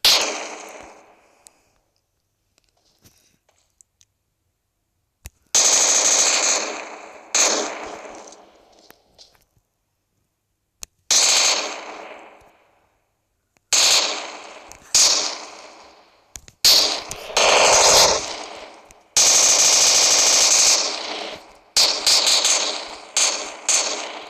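Gunfire in the PUBG video game on a training map: repeated loud bursts of rapid shots separated by short silent gaps, close and sharp, with no talk over them.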